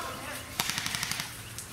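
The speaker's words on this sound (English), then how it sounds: "Devin just unloaded like half his magazine, tried to pin Jake down" An airsoft gun fires a quick burst of about eight sharp, evenly spaced shots outdoors during an arena game, fairly faint and slightly distant.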